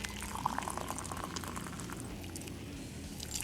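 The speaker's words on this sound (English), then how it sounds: "I just want to get all the water in" Hot water is poured quickly and steadily into an AeroPress coffee maker, a soft continuous splashing fill that stays faint and close with no talking.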